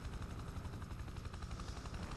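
A helicopter in the video game Prototype 2 gives a faint, continuous low rotor thrum with a rapid chopping pulse throughout.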